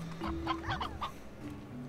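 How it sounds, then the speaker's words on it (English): Chickens cluck in the video game Slime Rancher, a few soft nearby clucks in quick succession over faint ambient game music. "I don't have any room for you chickens"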